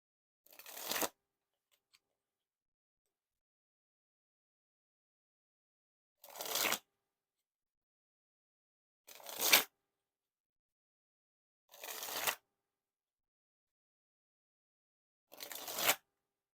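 Orbit Chroma Key edition playing cards dribbled from hand to hand in five separate bursts, each a short, crisp fluttering rush of card edges, close and isolated against near silence.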